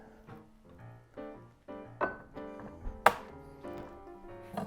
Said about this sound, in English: I want a diced onion, but I'm lazy. So I'm gonna use this awesome mandolin